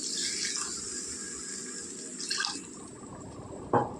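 Water pours steadily into a cooking pan for raw mango tamarind stew, a continuous hissing splash with a brief louder slosh near the end.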